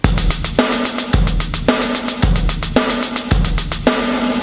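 A drum kit plays a steady beat with doubled sixteenth notes on the hi-hat, rapid bright ticks over a regular bass drum and snare pulse, close and loud with no voices.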